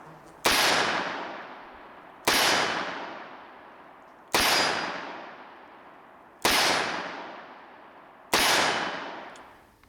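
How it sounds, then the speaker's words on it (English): Five loud revolver shots from a Chiappa White Rhino, evenly spaced about two seconds apart, each a sharp close crack followed by a long decaying ring, with no talking between them. "Let's reload and shoot again. The Chiappa White Rhino."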